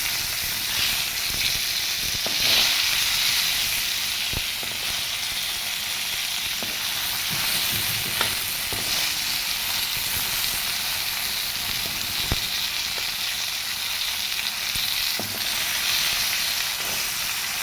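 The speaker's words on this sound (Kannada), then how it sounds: "ಫ್ರೈ ಆಗುತ್ತಿದೆ ಇದಕ್ಕೆ ಇವಾಗ ತಿರುಗ್ತಾ ಬರೋಣ" Okra slices fry in a pan with a steady bright sizzle, broken by occasional scraping knocks as they are stirred, heard close up with no talking.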